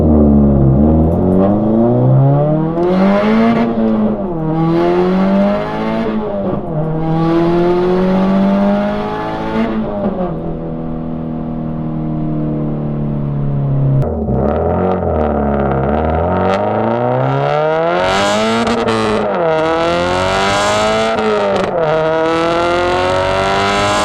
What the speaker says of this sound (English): it does get pretty loud when I really open up that wastegate up, as you guys are about to hear.